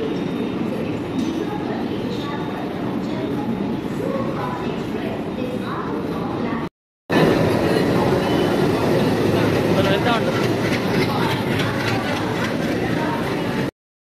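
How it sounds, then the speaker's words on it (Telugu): A Secunderabad to Mahabubabad Inter-City Superfast Express train rumbles steadily at a platform with a crowd murmuring around it, a short break partway through, then the low roar continues loudly. "ట్రైన్ ఇప్పుడు వస్తుంది, ఇంకా ఆగలేదు."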